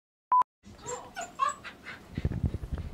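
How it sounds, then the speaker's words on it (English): A dog gives soft whimpers and pants, then a run of short yips and barks toward the end, close and moderately loud after a brief electronic beep. "Shut that fucking dog up."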